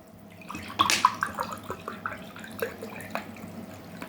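Water poured from a cup into a lemon-juice brine for pickling olives, splashing and gurgling in a burst of close pours, then tapering into lighter trickles and drips.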